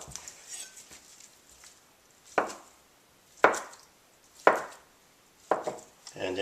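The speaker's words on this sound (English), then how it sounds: "Cut it into little cubes." Fresh mozzarella curd being cut into small cubes with a knife, giving four or five separate sharp chopping knocks on a board at a steady, unhurried pace, close and clear with quiet room noise between.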